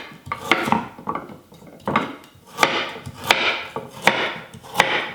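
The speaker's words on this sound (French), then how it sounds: "Avec cette carotte, je vais la couper en rondelles." A carrot being sliced into rounds on a board, giving a steady run of sharp knife taps and chops close by, about one or two per second, with no talking.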